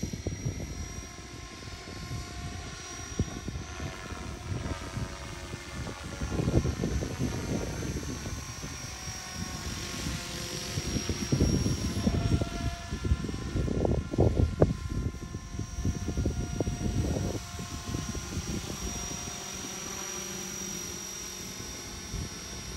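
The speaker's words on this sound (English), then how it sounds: "I've never seen a helicopter more stable than that right now." An Align T-Rex 470 model helicopter hovers nearby with a steady whirring rotor drone and a high motor whine, swelling and easing slightly, no voices.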